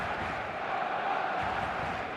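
Stadium crowd noise from the eFootball video game, a steady, dense roar of many voices at an even level with no distinct peaks.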